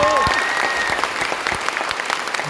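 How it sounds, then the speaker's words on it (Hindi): Audience applause for teachers at a speech event in Patna: a broad, continuous roar of many hands clapping, steady and loud, with faint voices and cheers mixed into the crowd noise. "और आज के दिन उन सभी शिक्षकों के लिए ताली हो जाए जिन्होंने सिग्निफिकेंट काम किया।"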